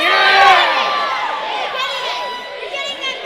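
A wrestling crowd cheers and shouts loudly, with whoops and excited voices swelling near the start, then settling into sustained noisy chatter and calls.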